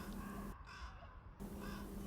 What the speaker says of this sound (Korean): 비치 쪽에서 먹이를 물고 오는 까마귀들, 비치 쪽으로 먹이를 가지러 가는 까마귀들을 보실 수가 있습니다.